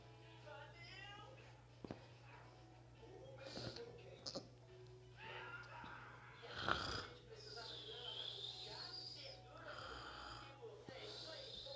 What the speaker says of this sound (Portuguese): ela tá roncando muito